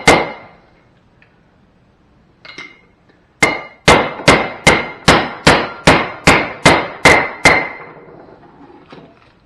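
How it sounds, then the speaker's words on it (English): A metal hammer drives a bearing race into place on a 1932 Ford: a few scattered taps, then a run of about a dozen loud, evenly spaced ringing metallic strikes, close and unaccompanied by talk. "you just basically hammer on it until it's flush"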